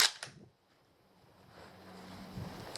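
An Enfield hunting rifle fires a CamPro 180 grain bullet: a sharp crack right at the start with a quick echo, then fading to quiet outdoor wind noise.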